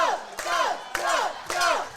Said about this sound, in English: You can hear the crowd getting into it.